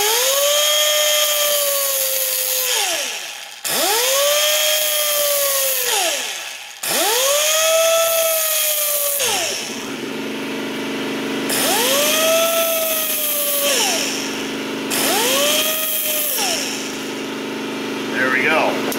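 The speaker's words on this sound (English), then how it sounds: "I'm gonna use a little cutoff wheel. You could probably use a file, but I'm just gonna scribe a little mark in here." A small rotary cutoff wheel scribes a mark on a transmission dipstick for a 62TE transmission, a close, loud high whine that rises and falls over repeated passes of a few seconds each, with the motor idling between.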